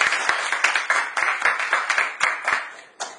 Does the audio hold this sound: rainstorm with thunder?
no